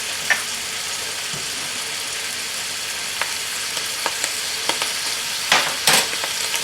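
Vinegar, dark soy sauce, black pepper, salt, crushed red chilli and sugar being stirred together in a pan for a Chinese sizzler sauce: a steady soft sizzle with scattered spoon scrapes and clinks, close and without talk.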